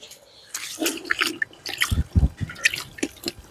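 Iris rhizome being rinsed of soil in a bucket of water, with irregular splashes, drips and sloshing close by, a few louder low plops midway, and faint talk.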